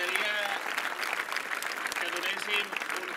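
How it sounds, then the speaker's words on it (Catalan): Steady applause from a crowd at a flower offering outside a polling station fills the whole stretch, dense clapping with a few voices calling out over it. "Aplaudiment"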